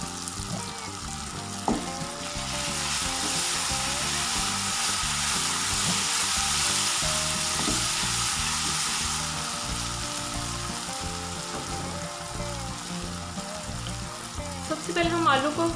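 Chopped green chillies hitting hot oil in a pan for aloo baingan sabzi, a broad hissing fry that swells, holds steady for several seconds and then settles into a softer sizzle with faint clatter.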